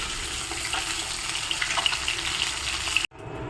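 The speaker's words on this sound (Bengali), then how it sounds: "এই যে মাছ ভাজা হচ্ছে" Katla fish sizzles steadily in hot oil for a thin fish curry, a close, continuous frying crackle with no talking that breaks off abruptly near the end.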